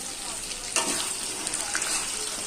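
Onions and ground spice paste sautéing together in hot oil in a pan, a steady close sizzle with a brief louder burst of crackling partway through.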